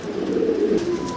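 A single short, close coo from a fancy pigeon at a farm, low and throaty, heard on its own.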